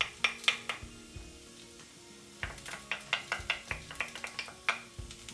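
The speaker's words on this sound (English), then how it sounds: "Now the softer vegetables go in, the eggplants go in, the turmeric and the cayenne pepper goes in." Eggplant and softer vegetables tumble into a pan of cooking squash with turmeric and cayenne, giving a run of sharp clanks and scraping knocks in two bursts over a low, quiet sizzle.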